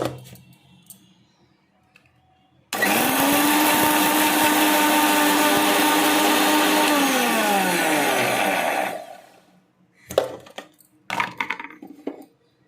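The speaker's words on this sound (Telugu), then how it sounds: "ఇప్పుడు మనం ఈ చింత చిగురు ఒక్కసారి మిక్సీ పట్టేసి" A mixer grinder blending tamarind leaves starts abruptly into a loud, steady motor whine, holds for about six seconds, then winds down; a few sharp knocks and clatters follow once it stops.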